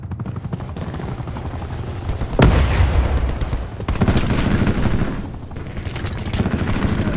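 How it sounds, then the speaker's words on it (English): An enemy attack helicopter hovers overhead in Call of Duty Black Ops 4, its rotor drone mixed with heavy gunfire bursts and two sharp explosive impacts, loud and continuous. "Enemy attack chopper above."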